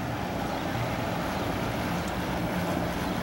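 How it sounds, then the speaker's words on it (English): A 2002 Chaparral 200 SSE runabout boat runs across open water, with a steady engine drone blended with water rush and heavy wind buffeting on the microphone. "Definitely a 40 mile an hour boat"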